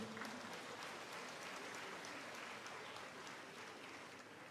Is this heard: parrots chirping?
no